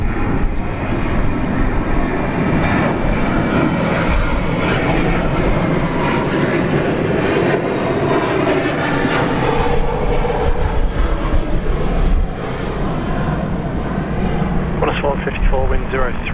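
A Qantas airliner lands on runway 34 left at Sydney International Airport on a warm, clear day. Its broad, continuous jet roar stays loud throughout, with voices talking over it.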